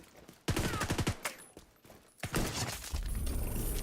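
Gunshots from The Division 2, a sharp burst of rapid shots followed by a pause and then another loud volley, with mechanical clatter between them and little talk.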